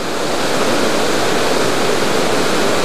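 Eas Fors waterfall on the Isle of Mull roars steadily and loudly, a dense, unbroken rush of falling water with no pauses or voices.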